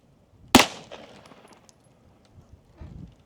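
A single sharp 9mm pistol shot firing Hornady 115gr XTP ammunition, loud and near, with a brief ringing decay and a few faint clinks and rustles afterward.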